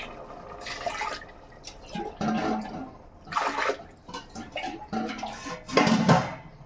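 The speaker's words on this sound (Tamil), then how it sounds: "இப்போ 2 டம்ளர் தண்ணி ஊற்றிக்கலாம்." Water poured from a tumbler into a pot of rice and masala, heard as several short splashing pours separated by brief pauses, close and fairly soft.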